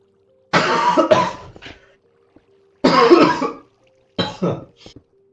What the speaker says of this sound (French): faut que j'ai toussé un bon coup